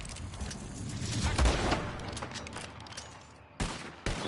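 Sniper rifle shots in Red Dead Online, a loud rolling blast with echoing tail followed by two sharp later cracks amid game ambience.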